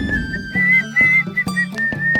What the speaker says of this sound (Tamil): என்ன வேலையை பார்க்காம விசில் அடிச்சுக்கிட்டு இருக்க?